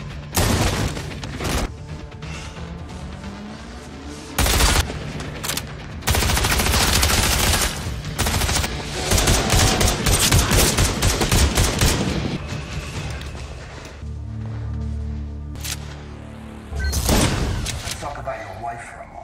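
Film shootout with dense bursts of gunfire, single sharp shots and rapid volleys, loud and near, broken by short gaps, with voices heard between the shots.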